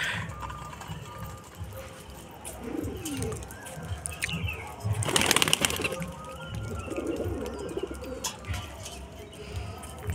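Pet pigeons coo repeatedly at close range, soft throaty calls recurring amid some fluttering, light chirps and a brief burst of rustling noise.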